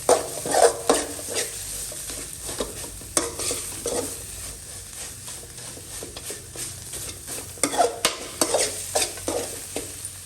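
Barfi mixture is stirred and mixed in a pan, giving repeated scraping strokes and clinks of a spoon over a soft background sizzle, in uneven bursts of activity.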